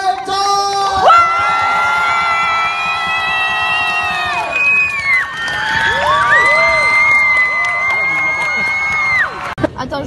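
An audience cheers, whoops and yells loudly for a guest's entrance, with high shouting voices sustained throughout and a brief pause midway.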